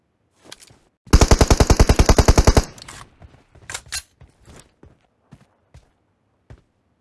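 Suppressed M4 fire in the mobile battle game BGMI: one rapid automatic burst of about fifteen close, punchy shots, followed by a few scattered single shots, footsteps and small taps.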